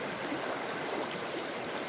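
River water rushes over slippery rocks in a green natural setting, a steady, close, broadband gurgling wash with no voices.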